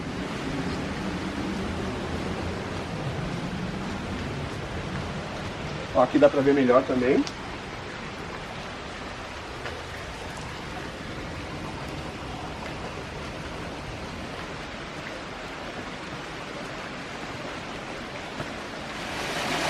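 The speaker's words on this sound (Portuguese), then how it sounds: "Ele cai, a queda d'água cai ali e o moinho gira assim." Steady rushing water from a small waterfall dropping onto a turning water mill, a continuous broadband wash heard close by, with someone talking briefly over it.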